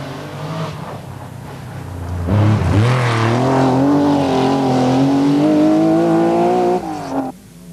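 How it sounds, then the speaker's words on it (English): Rally car driven hard on a stage of the 1984 Circuit of Ireland Rally in the Wicklow Mountains, its loud engine rising in pitch as it accelerates through the gears, near and alone before cutting off sharply. "But Toivonen, with driving like this, is right on Fisher's tail."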